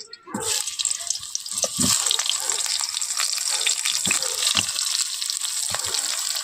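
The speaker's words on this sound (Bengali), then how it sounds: "তেলের মধ্যে আমি বেগুনগুলো ভেজে নেব" Eggplant pieces dropped into hot oil, sharp splashes and taps at first, then a loud continuous sizzle with scattered pops and clinks.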